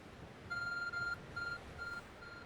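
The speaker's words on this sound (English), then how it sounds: "The Arc phone is beeping." Arc phone beeping in the Pokemon Legends Arceus video game: a series of clear electronic tones in short bursts of uneven length, each a steady pitch, over a faint background hum with no talking.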